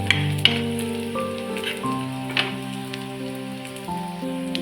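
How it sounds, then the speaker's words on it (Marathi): Grated coconut frying with onion in a pan, a soft continuous sizzle with scattered crackles and pops, accompanied by steady background music. "त्यामध्ये घालूया आपण खोबरं आणि खोबरं सुद्धा परतून घेऊया"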